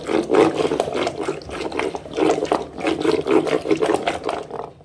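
Water is poured and sloshed into thick, churning homemade butter in a bowl, giving a wet, gurgling splash in uneven surges.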